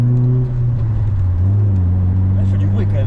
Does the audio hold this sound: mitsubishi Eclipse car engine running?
yes